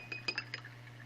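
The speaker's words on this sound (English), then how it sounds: "I'm going to rinse my brush." A watercolor paintbrush is rinsed in a glass of water, giving a quick run of light, bright glassy clinks as it taps the rim, over a steady low hum.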